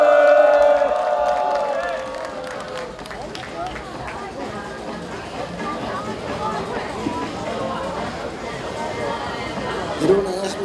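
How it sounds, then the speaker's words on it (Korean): A crowd at an outdoor candlelight rally in Gwangju claps in dense, sustained applause with some cheering. The applause follows a brief voice at the start and stays loud throughout. "임추섭 대표님을 뜨거운 박수로 모시겠습니다"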